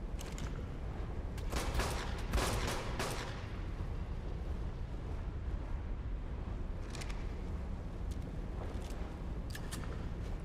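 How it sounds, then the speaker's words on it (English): Gunfire in the survival game Ark Survival Ascended, a pistol firing at enemies: a cluster of sharp shots around two to three seconds, then scattered single reports, all over a dense, rumbling game background with no talking. "Let's use our pistol."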